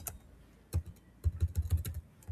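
Keys clatter on a computer keyboard while Python code is typed, a few isolated taps followed by a quick cluster of close, crisp keystrokes.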